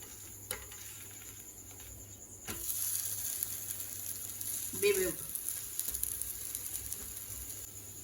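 Sweet potato adai fries in oil on a pan, a faint, soft sizzle that swells a little louder after a few seconds and holds steady, with occasional quiet kitchen noises and some speech.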